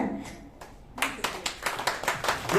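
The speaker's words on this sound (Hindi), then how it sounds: "जोरदार तालियां पानीपत से।" Audience at a Nari Shakti award ceremony at a gymkhana club in Karnal breaks into clapping after a quiet start, the claps building into a moderate, uneven round of applause.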